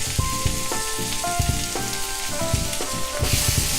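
Chopped tomatoes sizzle in a frying pan for a Malabar egg curry, a steady close hiss with soft stirring knocks, partly overlaid by tonal background music.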